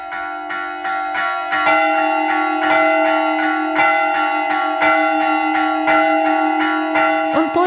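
Church bells rung from a bell tower by a bell ringer, loud repeated strikes in a steady rhythm with long ringing overtones layered on top of each other.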